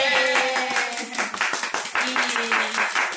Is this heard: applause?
yes